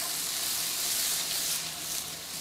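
Onions frying in a pan with star anise give a soft, steady sizzle and hiss, fairly faint and continuous, with no speech over it.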